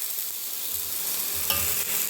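Hot garlic water poured into a spiced tempering sizzles and crackles loudly and steadily in a home kitchen, a continuous frying hiss with no talk.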